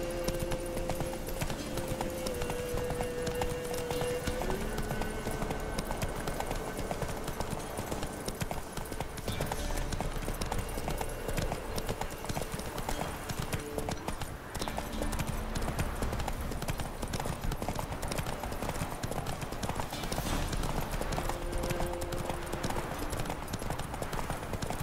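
Horse hooves clip-clopping steadily while riding in The Witcher 3, a continuous rhythmic trot under game music, with a faint whinny and brief bits of talk.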